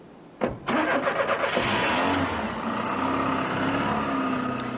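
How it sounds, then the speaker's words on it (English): A red Ford Escort starts with a sharp burst, then revs hard and drives quickly out of a petrol station car park onto a main road. Its mid-pitched engine drone stays loud and close, settling into steady acceleration. "They then drove quickly out of the car park, behind the petrol station and on the main road towards McDonald's."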